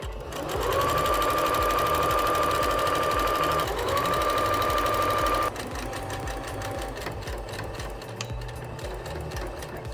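A sewing machine stitching the hem of a fabric table napkin, a loud close whirring run with rapid needle knocking that pauses briefly, restarts, then drops to a softer, slower hum.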